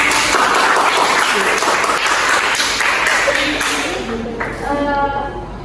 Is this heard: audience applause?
yes